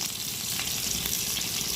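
Rib eye steak frying in a pan for a medium cook, a dense, even, close sizzle that holds steady throughout with no talk.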